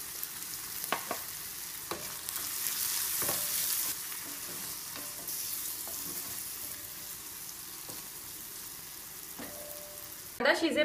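Onion frying on low heat with salt and turmeric for a Kolambicha Khatakhata prawn dish, a steady sizzle with occasional stirring clicks and a louder clatter at the very end.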